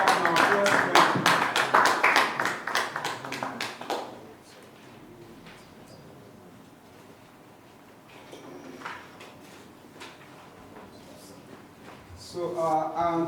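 An audience at a research report presentation in Ondo gives a round of steady clapping lasting about four seconds, fading into room noise before a voice resumes.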